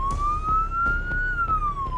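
An ambulance siren wails on the way to an elderly woman with a suspected fractured hip in Melbourne's northeast, a single steady rising and falling tone over low road rumble.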